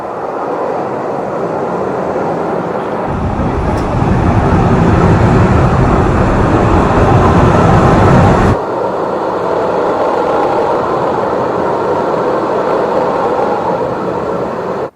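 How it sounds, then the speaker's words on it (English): A steady, loud rumble of the Hong Kong Peak Tram running along rails up to Victoria Peak, swelling in intensity partway through and then settling back to a continuous mechanical drone. "The tram is really beautiful."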